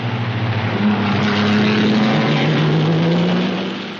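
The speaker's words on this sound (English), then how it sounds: "Hawthorne's Ferrari passed by the Maserati of Fangio." 1950s Grand Prix racing cars, a Ferrari and a Maserati, roar past close by. Their loud sustained engine notes shift in pitch as they pass, then fade slightly at the end.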